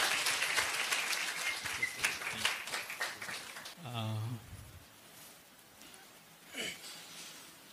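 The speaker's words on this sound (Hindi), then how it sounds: "ताली बजाकर पास्टर जी का स्वागत करेंगे।" An audience at a church gathering claps to welcome a pastor, a dense burst of applause for a few seconds that fades into quieter room sound and a brief voice.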